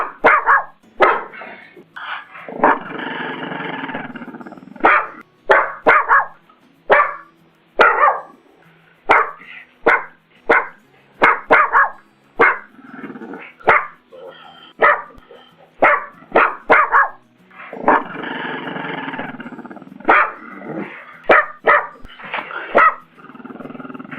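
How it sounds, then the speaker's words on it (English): A pug dog barks over and over in short, sharp bursts with a few longer, rougher, growl-tinged runs, close and loud with brief gaps between volleys. "Pug dog barking number 2."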